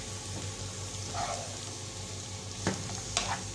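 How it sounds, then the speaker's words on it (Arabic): Julienned onion slices sauté in a pot for kebab stew, with a continuous soft sizzle and a couple of brief scraping stirs near the end. "هنشوح بقى البصله كده لحد ما تدبل"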